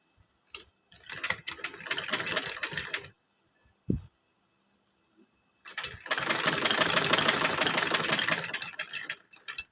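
A sewing machine stitching a V-shaped neck, two runs of fast mechanical whirring separated by a quiet gap with a single thump, close and moderately loud.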